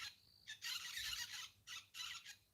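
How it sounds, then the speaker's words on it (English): Birds sing at dusk in a few faint, high chirping bursts with short gaps between them, heard over a quiet low background. "Get to listen to birds sing"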